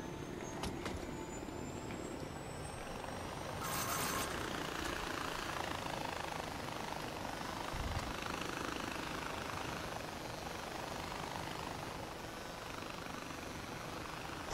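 A high-tech helicopter in the video game Far Cry 4 drones steadily with a broad rotor and engine rumble, holding fairly loud throughout with a brief brighter burst partway in.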